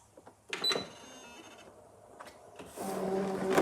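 A Brother ScanNCut machine loads a cutting mat: soft clicks and whirring motor bursts with mechanical feeding sounds, near and moderately quiet, no talking.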